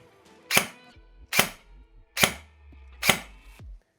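Four sharp shots from a Neptune Marsoc airsoft electric rifle with an 11.1 V LiPo battery, fired one at a time at an even semi-automatic pace, each a crisp snap with a brief mechanical whir after it.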